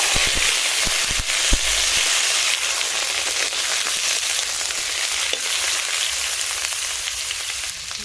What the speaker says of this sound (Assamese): মই এতিয়া পটলখিনি ভাজি লওঁ।